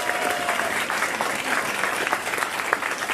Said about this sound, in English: If you can give Ms. Ogletree a round of applause for all her signs.